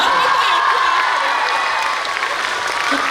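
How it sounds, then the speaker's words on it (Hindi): A school audience claps at a Children's Day celebration, steady and fairly loud throughout, with a wash of crowd noise under it. "तालियां"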